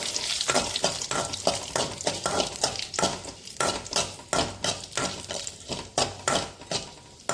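Curry leaves, mustard seeds and dried chillies are sautéed in a pan with rapid, rhythmic stirring strokes scraping over a steady close sizzle and occasional light clinks of the utensil.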